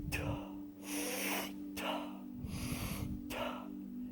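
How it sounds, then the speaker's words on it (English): Three slow, deep breaths are drawn in and let go in a steady rhythm, each a loud airy rush close to the listener, with a faint steady hum underneath. "what you want to do is do a full breath like that and let it go"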